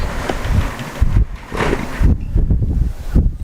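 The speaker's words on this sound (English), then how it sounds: "You might hear some gusts of wind sometimes." Buffeting gusts of wind blowing across the microphone at an outdoor soccer match, in irregular bursts, loud and rumbling, rising and falling over a few seconds.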